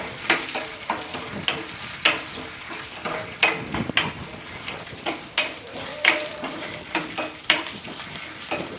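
Coconut pieces sizzle and crackle as they fry in a pan, with repeated scraping stirs knocking against the metal in an uneven rhythm, close and fairly steady throughout.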